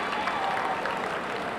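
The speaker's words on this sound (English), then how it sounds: "Let's give them a round of applause." A crowd at a spring commencement ceremony gives steady, even applause for honored guests, a dense wash of many clapping hands heard at a moderate distance.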